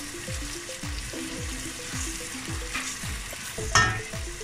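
Onions fry in a pan while cooking a large batch of food, a continuous sizzle broken by a regular series of dull knocks from stirring, close and moderately loud, no talking.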